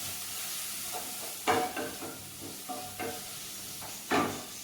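Soya roast with tomato added being stirred in a pan, a soft continuous sizzle broken by several scraping strokes of a spoon at irregular intervals, close by.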